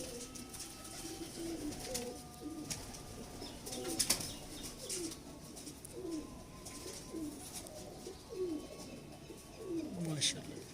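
A flock of old domestic pigeons coos repeatedly in soft, rolling calls close by, with occasional wing flutters and faint voices in the background.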